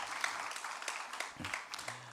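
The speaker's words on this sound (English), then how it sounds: "Let's give one last round of applause to Shupendra Rao, Saskia Raudahas, and Gauri Shankar." Brief, steady applause from an audience after a morning Indian music performance, dense clapping throughout with a faint low voice surfacing near the end.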